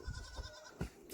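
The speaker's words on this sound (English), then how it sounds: "And these are what is left of our goats." Dairy goats on a dry farm give short, low bleats and grunts nearby, with two or three brief calls in quick succession.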